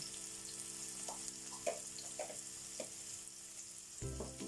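Onion and ground black pepper fry in a pan for a ginataang sayote dish, with a steady, fairly quiet sizzle and a few soft scrapes and clicks from stirring.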